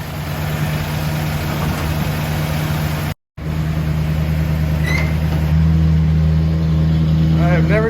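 The engine of a 1948 Buick Roadmaster Woodie idles steadily while warming up, a close, loud, even low hum with a brief dropout partway through and a slight shift in pitch near the end.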